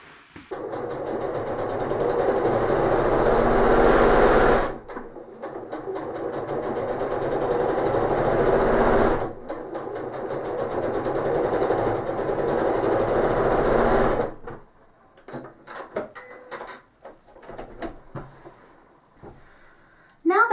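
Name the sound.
sewing machine with walking foot stitching a quilt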